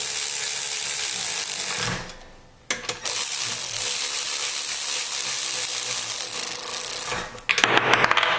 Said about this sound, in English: I'm just going to tighten these down a little bit snug